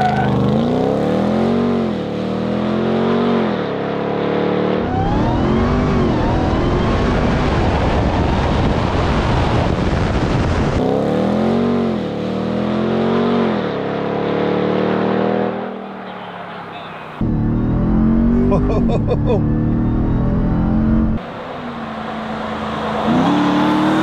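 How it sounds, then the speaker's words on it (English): A 700-horsepower supercharged Ram TRX pickup drives along a Forest Service road, its engine droning and rising in pitch with repeated revs, a loud steady roar with wind buffeting throughout. "we're in the brand new TRX and we're gonna take it for a little drive down the Forest Service road"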